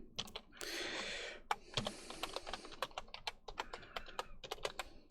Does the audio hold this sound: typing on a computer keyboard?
yes